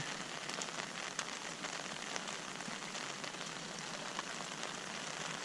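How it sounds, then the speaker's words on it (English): Gentle steady rain falls on a creek during a fishing outing, a soft continuous patter close by with occasional slightly louder drops, no voices. "I like this gentle rain."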